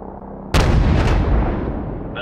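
A heavy artillery blast in Call of Duty Modern Warfare Remastered erupts suddenly after a quiet moment, a loud close boom with a long rumbling decay.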